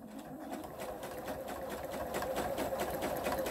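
A sewing machine runs steadily, stitching the rounded edge of a Peter Pan collar at a seam allowance of about 0.5 mm, a close, continuous mechanical whir with a fast, even needle rhythm from start to finish.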